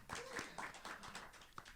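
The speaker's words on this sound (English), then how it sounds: "A round of applause to everyone that performed already." Very faint, scattered applause and hand claps from an audience at a poetry and performance evening, a brief thin patter of claps in a quiet room.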